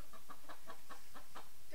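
Chicken clucks from a farmyard rooster, a steady run of about eight short, evenly spaced calls close by with no other sound.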